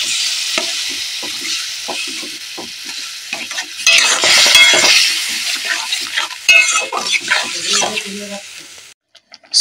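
Amra chutney with jaggery and mustard water being stirred in a hot pan, a loud continuous sizzle broken by scraping spoon strokes, with a burst of stronger frying midway and a brief pause near the end.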